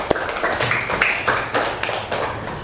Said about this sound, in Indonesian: Kita kasih aplaus untuk Nadita ya.